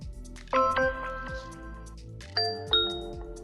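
Two bright electronic ding-dong doorbell chimes from an Alexa device ring out close and clear, each a pair of falling tones over a soft background hum.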